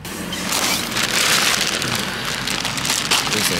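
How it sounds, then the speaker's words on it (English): Steady rain falls outside, a close, dense hiss of drops pattering on surfaces that swells slightly and then holds steady, with no voices. "It's raining."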